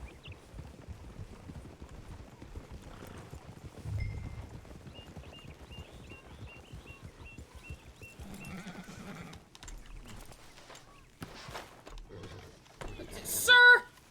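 Horse hooves clip-clop in a steady walking rhythm in the video game Red Dead Redemption 2, with faint ambient sounds and voices speaking over them, ending in a louder burst.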